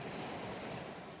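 Ocean waves wash over rocks as a steady, close wash of surf with wind noise, loud and continuous throughout with no pauses or voices.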